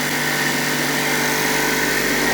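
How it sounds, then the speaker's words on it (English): Power sander working over rough boards for bathroom shiplap, a loud, steady high-pitched whirring hiss that holds constant and close throughout with no pauses and no voices. "So yeah, the rough boards are being sanded."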